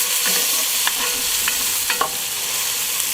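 Bacon, mushrooms and shallots fry and sizzle steadily in a Dutch oven while a utensil stirs them, with a few light scraping clicks over the constant hiss; no voices.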